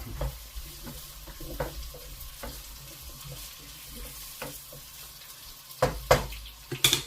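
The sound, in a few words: stirring beef in black bean sauce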